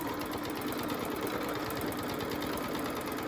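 Sewing machine running steadily at a fast, even stitching rhythm during free motion quilting, a close, continuous mechanical whir heard alone.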